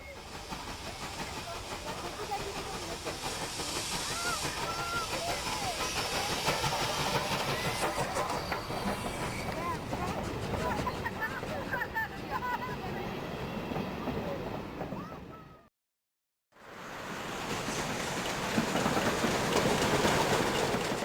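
Steam locomotive on the rails, the 141 TD 740 heading back to the Puy-de-Dôme, with a steady chuffing, hissing rumble throughout, broken by a brief dropout before resuming.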